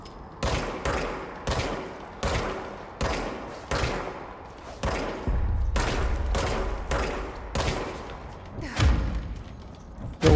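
A semi-automatic gun in the Control video game fires shot after shot in a steady rhythm of about ten punchy, booming reports, each with a short decaying tail, loud and close, ending with one more blast.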